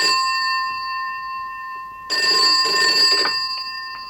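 A telephone bell rings loudly and close by in a brief bright burst over a steady electronic tone, with no talking during the ring.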